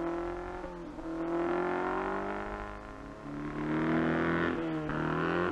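Off-road vehicles on a rugged 500-metre 1970s mud course marked by poles and hay bales, engines droning and revving steadily with rising and falling pitch, fairly close, with no talk over them.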